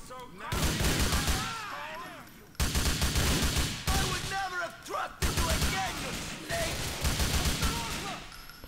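Bursts of automatic gunfire ring out in the video game GTA IV, loud rapid volleys separated by short pauses, with a voice talking over parts of the shooting.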